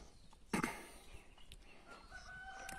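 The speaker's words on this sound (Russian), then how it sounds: "Курочка." A chicken outdoors in Tanzania gives one brief, sharp call followed by faint, scattered clucks, quiet and fairly distant against a soft background.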